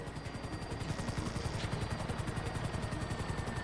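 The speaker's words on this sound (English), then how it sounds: "Just hold the chopper here." GTA V helicopter hovering in place, a fast steady rotor chop with a whining turbine over it, loud and close throughout with no talk.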